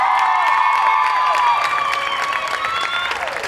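Applause and cheering from the crowd at a high school girls' basketball game, continuous clapping mixed with shouts and a sustained whistle-like cheer over the noise.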